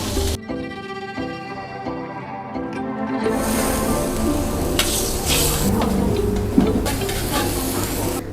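Fluffy crispy fish, pla fu, frying in hot oil, starting quietly with a faint tonal hum before a loud, dense sizzle and crackle rises and carries on steadily, with occasional stirring clinks.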